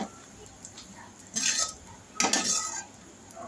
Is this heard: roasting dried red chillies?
yes